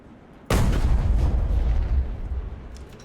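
A Jagdtiger tank gun fires a shell in a video game, one loud sudden boom that rolls into a long fading rumble, heard alone.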